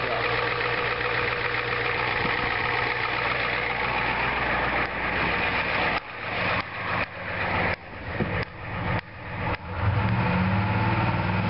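A diesel engine with a DB2 injection pump idling, a steady close rumble that continues throughout, with a few brief dips and surges near the end.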